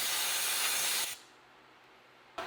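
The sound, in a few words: aerosol throttle body cleaner spraying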